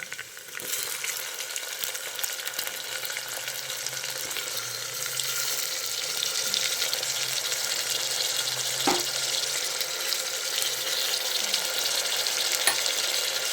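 Tomato fries in a pan for beetroot gravy, giving a steady close hiss of sizzling that grows slightly denser partway through, with a single sharp clink from a utensil.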